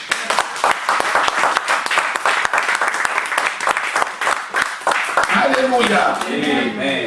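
A church congregation applauding during a French-language sermon, loud sustained clapping filling the room, with a voice speaking and then rising over the applause toward the end.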